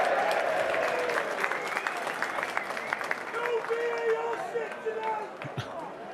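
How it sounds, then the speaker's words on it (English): Football crowd in a stadium during an FA Cup third-round match between Macclesfield and Crystal Palace, a sustained roar and cheer filling the whole stretch with steady loudness, while a commentator speaks over it. "got a cheer from other people in the crowd"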